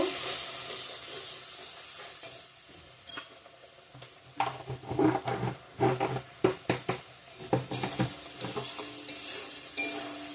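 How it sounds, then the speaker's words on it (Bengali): Turmeric, chilli, coriander and cumin powders stir-fried in a pan, a quiet sizzle at first, then a run of loud, rhythmic spatula scrapes and clacks against the metal pan close up, with no voices. "লঙ্কার গুঁড়ো ধনিয়া গুঁড়ো জিরার গুঁড়ো সব মশলা দিয়ে দিলাম ভালো করে কষিয়ে নেব"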